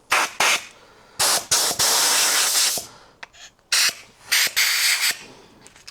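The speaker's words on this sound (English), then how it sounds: "increasing the compressor power back to full, popping on an airline," Compressed air from a workshop airline blasts in short bursts and a few longer sustained hisses as a freshly powder-coated part is blown off, loud and close with brief gaps between bursts.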